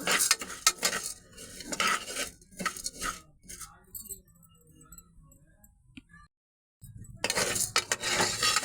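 Toor dal is dry-roasted in a pan, with clattering spoon scrapes and the rattle of stirred lentils in close, loud bursts, then a quieter stretch with a brief gap before the stirring resumes.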